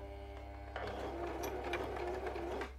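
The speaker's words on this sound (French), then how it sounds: "je vais refaire ma couture ici en essayant de tout mettre bien à plat" A sewing machine stitches a seam on a dress, starting with a soft hum and then settling into a brisk, steady mechanical whir close by.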